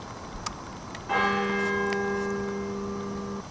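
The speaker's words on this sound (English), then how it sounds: "I think the bells are about to ring." Church bell struck once, a loud sustained ring with a long humming decay that carries on for over two seconds, heard alone at dawn over faint background hiss.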